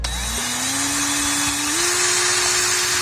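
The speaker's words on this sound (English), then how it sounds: "I'm gonna use my drill." A small electric drill whirs steadily as it cleans up a wheel bearing hub from a 2007 GMC Yukon, the motor whine rising slightly in pitch partway through against broadband scraping noise.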